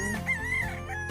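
A rooster on a Philippine farm range area gives a single strained crow lasting about a second, close and fairly loud, with a steady tonal call over background rustle.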